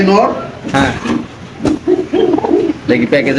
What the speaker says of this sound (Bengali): আপনি দেখতে পাচ্ছেন খুব সুন্দর মার্শাল কবুতরটা